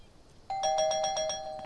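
Doorbell ringing in the Thief Simulator video game, a clear electronic chime with a bright sustained tone and several quick repeated pulses, close and alone after quiet.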